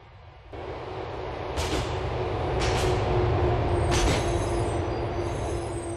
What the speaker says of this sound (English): The train is approaching Manganese West Station.